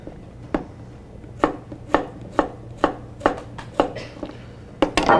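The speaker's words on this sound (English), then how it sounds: "Make a flat spot in your vegetable so you're not trying to cut through it on a round." A knife chops through a vegetable on a cutting board, about a dozen sharp, close knocks at an uneven, moderate pace with short gaps between them.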